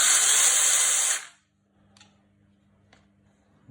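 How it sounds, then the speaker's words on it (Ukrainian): A DELIXI cordless battery-powered mini saw for garden work whirs loudly at a steady high pitch for just over a second, then cuts off, leaving near silence with a few faint clicks. "така міні-пила на акумуляторі."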